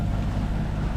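A sailboat motors out of the bay of Girolata in Corsica under engine power in light wind, a steady low engine drone mixed with wind rush over the microphone, close and continuous with no talk.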